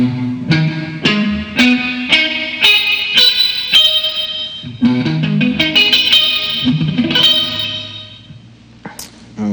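Distorted electric guitar plays rising and falling minor triad arpeggios in second position for progressive hard rock improvisation, each note picked cleanly in a steady run, loud and close with echo and reverb trailing the notes, no voices.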